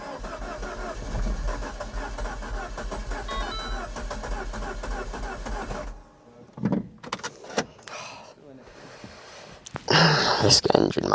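A freshly rebuilt Mini Cooper S engine cranks with a steady churning drone for several seconds, then stops abruptly, followed by scattered clunks and knocks and a short burst of noise near the end.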